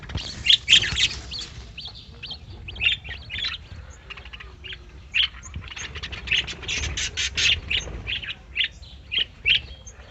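Birds kept in a small backyard breeding colony, a busy mix of repeated chirps and squawky calls from several birds, fairly close, with no talking.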